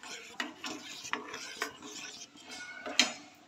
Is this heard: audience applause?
no